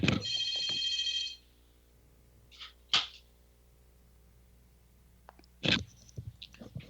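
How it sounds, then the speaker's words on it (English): A telephone bell rings in a short loud burst at the start, followed by a few sharp clicks and knocks as the handset is handled, with quiet room between. "What's that phone doing?"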